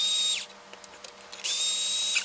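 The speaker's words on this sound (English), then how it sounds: "Let's get the screws out." A cordless power driver with a PZ1 bit backs screws out of a 1992 Racal Dana frequency counter, whining loud and close in two bursts with a short quiet pause of faint handling taps between them.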